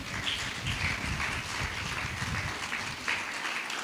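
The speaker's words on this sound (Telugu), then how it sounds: "నా మాట నమ్మిన వాళ్ళు చప్పట్లు కొట్టండి." Congregation clapping steadily at a prophetic ministry church service, a dense continuous patter of many hands lasting throughout, fairly loud and close with no speech over it.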